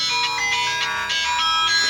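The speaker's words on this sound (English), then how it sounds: "you have a phone call." A phone ringtone plays on its own for about two seconds, a steady electronic melody of bright repeating tones with no talk over it.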